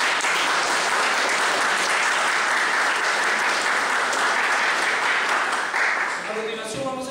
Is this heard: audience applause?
yes